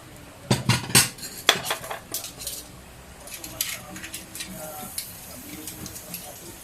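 A utensil clinks and scrapes against a bowl as chocolate syrup mixture is mixed with flour, with sharp taps at first and then a steady run of lighter clinking strokes, and someone talks in the background.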